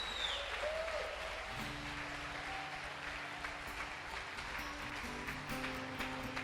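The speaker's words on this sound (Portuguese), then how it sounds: "Você pode dar um forte aplauso ao Senhor Jesus." Church congregation applauding, a steady wash of clapping with sustained organ or keyboard tones entering underneath partway through, moderately loud and continuous.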